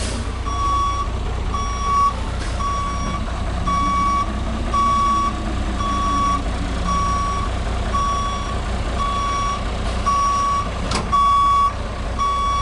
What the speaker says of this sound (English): we're going to back this vehicle straight up to this cone here